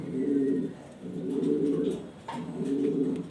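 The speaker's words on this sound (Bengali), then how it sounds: "খুবই সুন্দর আনকমন কবুতর জর্না শার্টিং কবুতর" Close, low cooing from uncommon Jorna shorting fancy pigeons comes in three rolling bursts with brief pauses between, and a few faint background noises sit underneath.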